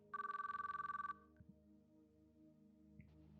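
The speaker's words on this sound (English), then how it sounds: "I needed to pick up the phone. If I didn't hurry, she'd hang up." A telephone bell ringing in the video game Chaos Child, one rapid electronic trill burst lasting about a second, then a brief blip and low background hum with no talk.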